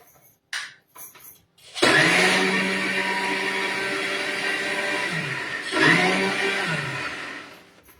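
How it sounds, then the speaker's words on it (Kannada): A kitchen mixer grinder whirs up to speed after a few short taps, grinding red amaranth in a steady loud drone that dips briefly and then surges again before winding down. "ಮಿಕ್ಸಿಯಲ್ಲಿ ರುಬ್ಕೋಬೇಕು."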